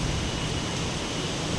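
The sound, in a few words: strong whirlwind blowing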